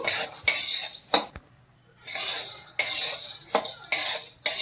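A utensil stirs chana dal, urad dal and coriander seeds dry-roasting in a metal pan, giving repeated close scraping and rattling clatters in uneven bursts with a brief quiet pause.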